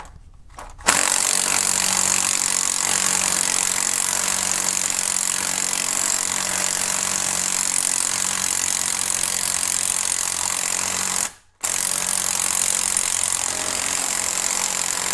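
A power tool runs continuously while backing out a bottom bolt, a steady loud whirring buzz that starts abruptly and cuts out briefly once before resuming.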